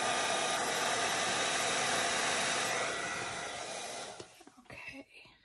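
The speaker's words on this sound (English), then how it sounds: "And then very carefully come right on in with my heat gun over that." A heat gun blows steadily over wet ink stamped on a wooden cutting board, a loud continuous whoosh for about four seconds before it switches off and quiet handling noises follow.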